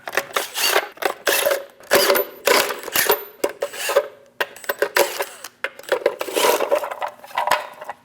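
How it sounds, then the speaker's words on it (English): A 22mm socket wrench ratchets and clinks while removing lug nuts from a Chevrolet Express 2500 front wheel, a series of close, bright metallic clicking bursts with short pauses between them. "Using a 22mm socket, remove the 8 lug nuts."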